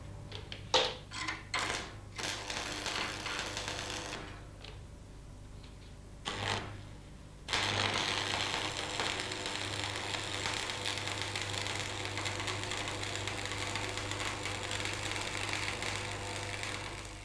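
Arc welding laying further runs to fill a V groove between plates, a steady crackling buzz that carries on without a break after a few brief bursts and pauses at the start.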